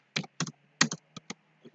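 Keys on a computer keyboard are tapped in quick, close clicks, arriving in short clusters of two with brief pauses between, crisp and isolated against a quiet room.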